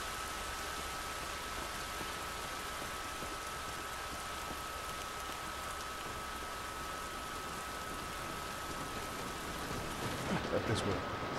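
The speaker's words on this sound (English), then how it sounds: "It's raining." Steady rain in The Last of Us Remastered hisses evenly and softly throughout, a constant wash of falling drops with a brief louder rustle near the end.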